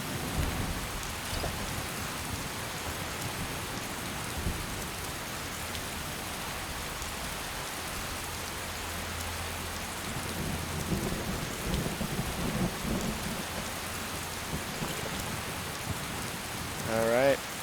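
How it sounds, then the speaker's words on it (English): Steady rain and rumbling thunder in a Skyrim game, a constant wash of rainfall with low rolling thunder underneath throughout, fairly loud and continuous. "This rain may actually help us a little."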